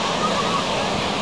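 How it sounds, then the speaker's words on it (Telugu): Waves roll steadily onto the lake shore at Grand Bend beach, a broad continuous wash of surf with no clear breaks, heard alone and fairly close. "పెద్ద లేక్ ఇది యాక్చువల్గా, కానీ సముద్రంలాగా అల్ల వస్తుంది."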